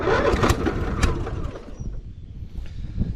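Old tractor engine being started, a rough sputtering, cranking rumble that catches briefly and then fades into a quieter uneven running sound, close by.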